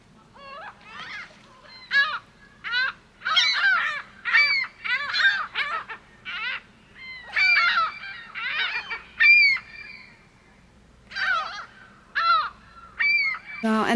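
Seagulls calling at Mackinac Island, a near, loud run of harsh squawks and yelping cries in repeated bursts, with short pauses between calls and no talk over them.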